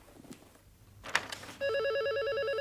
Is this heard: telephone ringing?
yes